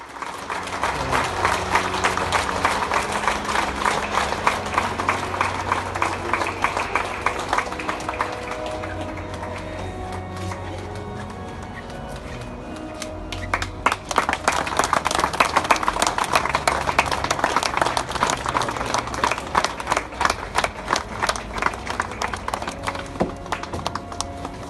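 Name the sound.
applause outside the church at a funeral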